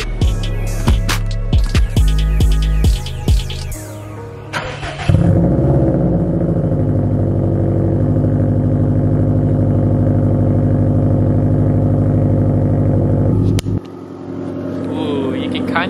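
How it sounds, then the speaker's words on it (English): A Subaru WRX STI turbo engine with a downpipe exhaust cold-starts, cranking and firing up, revving loudly through a throaty exhaust, then settles into a steady rumbling idle before cutting off; a voice speaks briefly early on. "this is gonna be our first cold start with the downpipe"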